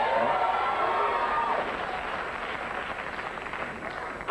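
A studio audience at a 1994 late-night talk show cheers and applauds in a loud, dense wash of clapping and shouts that stays steady throughout.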